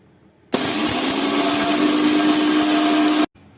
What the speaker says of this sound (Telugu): వేసుకొని మంచిగా మెత్తగా గ్రైండ్ చేసుకోవాలి.